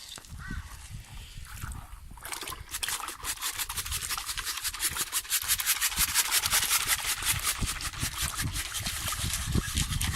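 Rocks being washed and sieved for small sapphires, a continuous scraping, rubbing rattle of stones and water in a sieve that grows louder and steadier after the first few seconds, close up with no talking.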